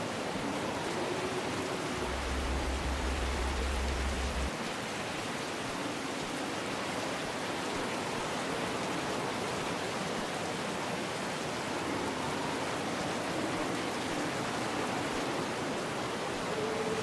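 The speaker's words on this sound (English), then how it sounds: "Is it the rain hitting us" Steady, dense rain hisses against a ship's hull in the sci-fi game Stars End, a continuous broadband wash with no breaks, with faint low tones drifting underneath.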